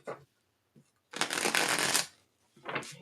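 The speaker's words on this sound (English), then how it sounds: "I'm going to give it a couple more shuffles" A deck of tarot cards is riffled in one long, crisp burst lasting about a second, with a few soft handling taps before and after.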